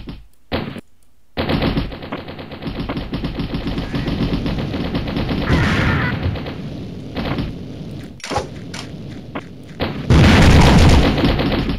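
Rapid bursts of gunfire and bomb blasts in the Mini Militia game crackle loudly and densely, broken by a few brief silent gaps and ending in one heavy, louder blast.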